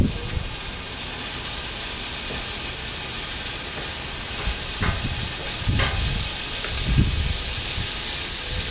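Butter sizzles steadily on a hot Blackstone flat-top griddle, a continuous close hiss with a few brief louder crackles and spatters; no one speaks over it.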